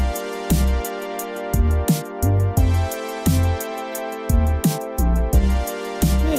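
A drum track plays back in FL Studio, a punchy kick thumping in a steady pattern with snare hits and bright hi-hat ticks layered over a sustained tonal backing, loud and clean with no talking.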